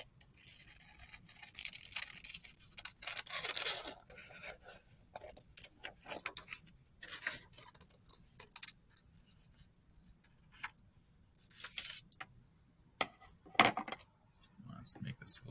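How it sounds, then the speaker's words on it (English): Scissors cutting out a paper circle, quiet close snips and papery rustles in uneven bursts, some sharper crisp cuts near the end, with faint background hiss. "go ahead and cut out your first circle."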